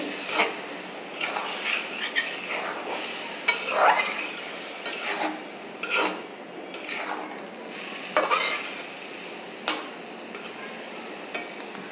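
Bottle gourd curry with lentils is stir-fried in a pan, repeated rhythmic spatula scrapes and clanks against the metal over a steady sizzle, close and clear, with no one talking.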